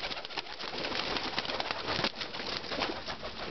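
Young Andijan crested pigeons coo continuously at close range: soft, throaty, overlapping coos with some rustling, heard alone without talk.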